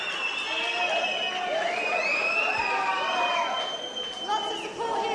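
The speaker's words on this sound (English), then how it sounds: "listen to that crowd. Listen to the noise." A packed crowd roars steadily at a kickboxing show, with a dense wash of cheering, shouting and whistles that holds loud and unbroken throughout.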